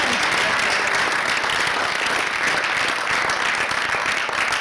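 Audience applause for a band at a live show, a dense, steady roar of many hands clapping that carries on at full strength from start to finish, close and enveloping.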